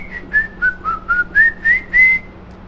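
A tuneful whistle carries a short melody in a run of separate notes, gliding slightly between pitches, clear and close against a quiet background.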